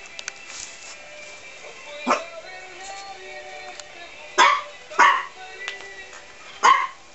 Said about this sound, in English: What you barking at, little one?